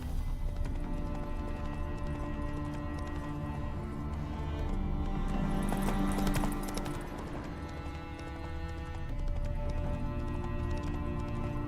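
The horse Roach's hooves clip-clop steadily along a road in The Witcher 3: Wild Hunt, a continuous rhythmic trot heard over the game's music and ambience, with no talking.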